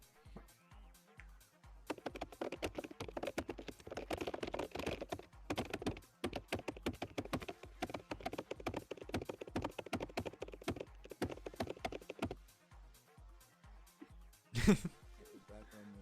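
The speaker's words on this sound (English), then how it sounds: "It sounds like you're using an original Macintosh keyboard." Someone types on a computer keyboard said to sound like an original Macintosh keyboard, with dense runs of clicky keystrokes broken by brief pauses and a louder thump near the end, all fairly quiet.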